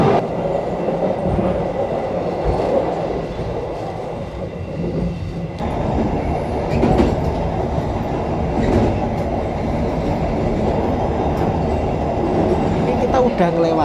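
KA Serayu passenger train running on a mountain railway between Cilame and Sasaksaat stations, heard from inside: a loud continuous rumble and rattle of carriages with wheel clatter throughout.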